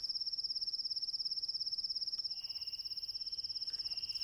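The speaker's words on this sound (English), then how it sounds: "The banks of the river, covered with thick bushes, are the favourite haunt of many species of crickets." Crickets chirping on a bushy riverbank in Italy's Sabatino volcanic area, a steady rapid pulsing trill that carries on alone throughout, with a second fainter cricket joining partway through.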